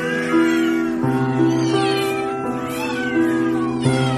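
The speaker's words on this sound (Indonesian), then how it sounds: "500 ekor kucing" Loud, close cats meow over and over in long, drawn-out wails at a shelter housing hundreds of cats of every kind, several voices overlapping in a continuous chorus.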